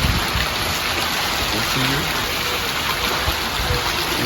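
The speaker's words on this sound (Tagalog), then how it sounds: "lakas ng ulan tapos ang hangin" Heavy typhoon rain pours down steadily with a constant dense hiss, wind blowing through it, uninterrupted throughout.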